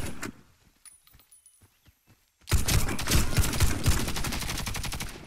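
Video game gunfire in a Warface team deathmatch: after a few quiet clicks and handling sounds, a loud burst of rapid automatic fire rattles on continuously for several seconds, close and dense.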